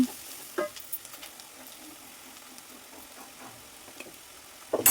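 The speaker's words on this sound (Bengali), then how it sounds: "পেঁয়াজ চিংড়ি দুটোই কিন্তু এখন আমি একটু ভেজে নিব" Onion and shrimp fry in a pan while being stirred with turmeric, making a faint, steady sizzle broken by a few light clicks and scrapes of the spoon, with a louder knock at the end.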